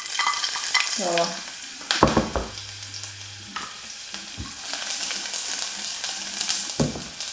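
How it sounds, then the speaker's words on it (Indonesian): Garlic drops into hot oil and sizzles while being stirred, with utensil clatter and scraping over a steady frying hiss, close by, in a kitchen making Indonesian bakso meatballs. A brief word is spoken. "Oke, ini udah panas, kita masukkan bawang putihnya."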